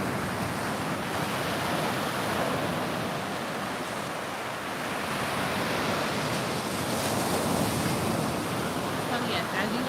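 Ocean surf rolls onto a beach in a continuous broadband wash, with wind noise buffeting the microphone throughout and no clear voices.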